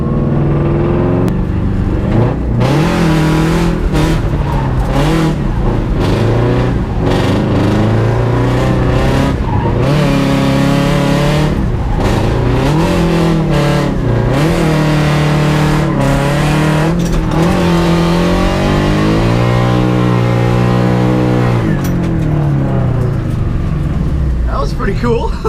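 A car drifting on a debris-strewn street after Hurricane Irma, engine revving hard with repeated loud tire squeals and skids, rising and falling in sustained bursts, close and very loud throughout.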